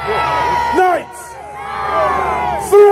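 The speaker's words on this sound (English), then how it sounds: "Who's cheering for the 4 medieval knights?" A large crowd at an abbey event cheers and shouts loudly for medieval knights in a tug of war, with whoops and yells rising in waves, dipping briefly, then surging again near the end.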